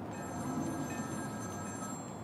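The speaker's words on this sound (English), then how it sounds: "Is he calling me on the same phone again?" A telephone rings in a Batman video game, a short faint electronic ring of steady sustained tones over a soft background hum.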